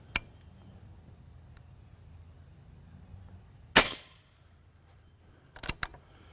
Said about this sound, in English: I bounced a pellet off the chronograph.